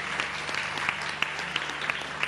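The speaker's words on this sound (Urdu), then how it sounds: "تالیوں میں گرم جوشی نہیں ہے, مہمان کو ایسے نہیں بلاتے" A studio audience claps to welcome a guest, a steady patter of applause with a few sharp individual claps standing out, under faint voices.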